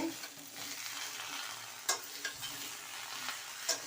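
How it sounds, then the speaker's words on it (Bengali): Cauliflower frying in a pan, a continuous close sizzle broken by a few sharp scrapes and clinks of stirring. "ফুলকপিটা বসানো হয়ে গেছে"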